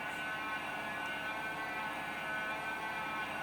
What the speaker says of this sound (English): That's the engine startup with sound